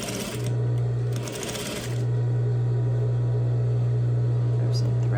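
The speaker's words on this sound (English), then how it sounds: "I will pivot my machine with the needle inserted and stitch all the way across." A home sewing machine runs steadily while stitching across a patch pocket. Its motor hum is continuous and loud, with a brief dip where it slows, and then it keeps going.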